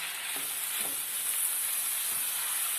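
Tomatoes and zucchini fry in oil in a pan, giving a steady, close sizzle and hiss that carries evenly throughout, with a few soft stirring scrapes.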